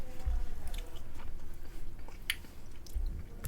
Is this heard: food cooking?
no